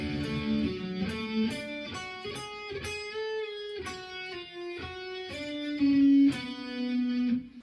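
A distorted electric guitar plays the intro riff of a song, separate notes and bends, loud and close with no voices, ending on a sustained note.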